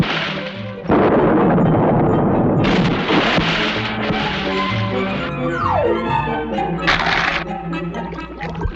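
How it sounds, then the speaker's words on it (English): Cartoon cannon broadside fired from a ship at a huge battleship, heard as a loud booming barrage of blasts and crashes with splashing water and a whistling fall, layered under music and continuing for several seconds. "Sail past and give 'em a broadside."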